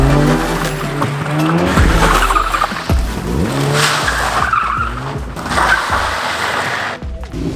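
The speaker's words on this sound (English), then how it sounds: "What started to be a little brake test turned into a full 4-car rally" Several Honda Fit race cars lap a parking lot, tires squealing and skidding almost nonstop over loud engine drone, with rising and falling pitches as cars pass close by.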